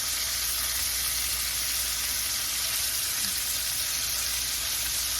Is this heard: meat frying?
yes